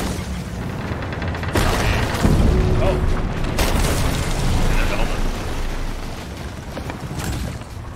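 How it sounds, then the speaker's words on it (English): Booming cannon fire from a pirate ship battle in the video game Sea of Thieves, a heavy blast rising out of steady rumbling noise, with players talking over it. "Don't worry about the cannons."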